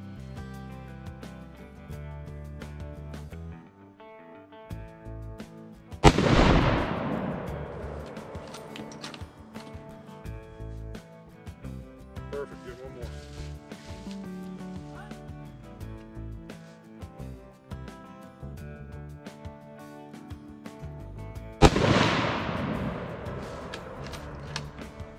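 Rifle gunshots at a range while a rifle is sighted in for the hunting season: two loud, sharp reports about fifteen seconds apart, each ringing out and fading, set against quieter background sound.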